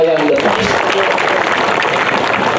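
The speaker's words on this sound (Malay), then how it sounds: "Marilah kita bagi satu tepukan yang gemuruh bagi warga bayang lepas" A crowd at a political rally in Penang applauds loudly and continuously, a dense wash of clapping and cheering with a voice speaking over the start.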